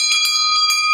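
Small bells from a large collection ring in several bright, overlapping strikes with long shimmering sustain, loud and close.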